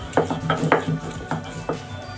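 Knife chopping onion coarsely on a board for a fish bharta, a few irregular close taps spaced apart, fairly soft.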